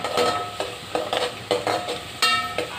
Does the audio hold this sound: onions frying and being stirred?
yes